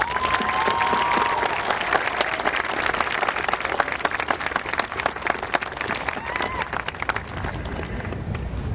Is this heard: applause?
yes